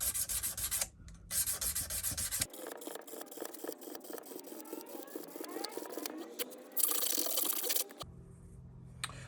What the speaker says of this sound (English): use the groove that's been rubbed into the eraser as a way of supporting the sandpaper